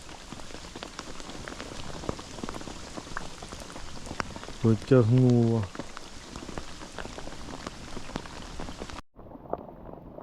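Steady rain patters on a surface, with a short burst of a louder, tonal voice-like sound midway and a brief spoken word.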